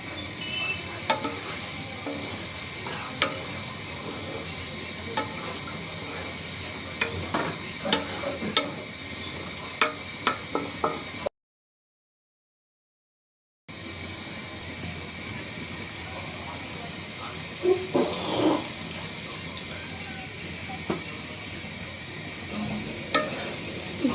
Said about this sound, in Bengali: ডিমটা সুন্দর করে কষিয়ে নিব।